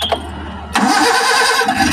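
A Suzuki Carry 1.0 engine with a corroded cylinder head cranks on the starter and catches, then settles into a loud, close idle with no talk.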